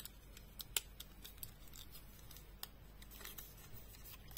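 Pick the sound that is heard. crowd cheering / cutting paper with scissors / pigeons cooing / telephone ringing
cutting paper with scissors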